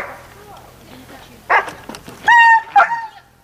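A young shepherd dog in an aggression-correction training lesson gives a few sharp barks and a high whining yelp close by, mixed with people talking.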